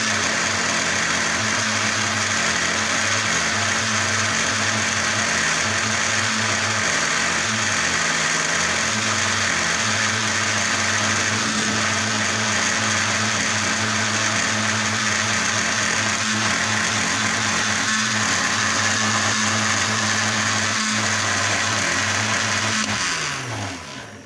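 A blender jug churns cream into butter with a loud, steady motor drone and a grinding hum that runs unbroken for over twenty seconds before winding down at the end, close and alone.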